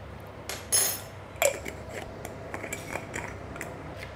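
Eggs beaten in a bowl for a shrimp and scallion omelette, heard as a few quiet, scattered clinks of utensil against the bowl with soft clatter between, no talking.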